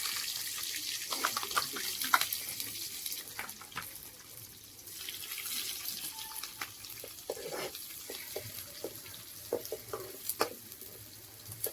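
Onions and green chillies fry in oil in a pan for an egg masala gravy, a continuous close sizzle with scattered crackles and pops and occasional spoon scrapes, with no talking.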